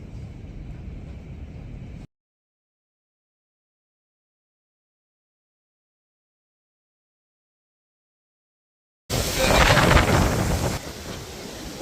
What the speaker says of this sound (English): It's just wind.